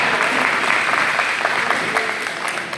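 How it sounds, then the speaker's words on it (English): A studio audience applauds the panel at a game show, a full, steady wash of many hands clapping at a consistent level throughout. "Give them a big round of applause, because they certainly deserve it."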